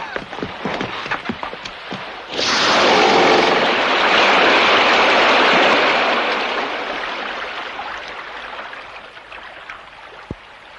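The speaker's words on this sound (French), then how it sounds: "Maintenant que le bateau ne peut plus fuir devant les vagues, elle se brise sur l'arrière et déferle sur le pont" Heavy sea waves crash and surge over a stranded boat's stern and deck in an audio drama, a sudden loud broadband roar after a quieter opening that swells for several seconds and then slowly subsides.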